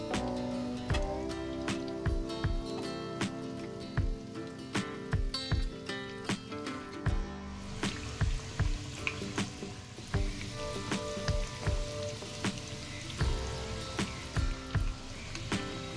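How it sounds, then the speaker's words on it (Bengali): Chicken nuggets frying in oil after being turned to the other side, a steady low sizzle broken by regular sharp taps and clicks of a utensil against the pan. "এবার উল্টো পিঠটাও ভেজে নিচ্ছি।"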